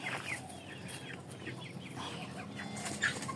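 Indio Gigante and Shamo chickens give soft, scattered clucks and short calls at moderate distance over a steady farmyard background, with no talking.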